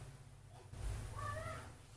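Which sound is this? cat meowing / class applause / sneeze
cat meowing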